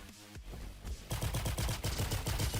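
Turrets firing in a video game, a quieter stretch that breaks into rapid, continuous automatic gunfire bursts, dense and loud, with no talk.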